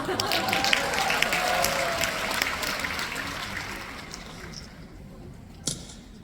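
Audience applause at a Korean leadership forum, a fairly loud wash of clapping that slowly thins and fades, with a voice speaking over it.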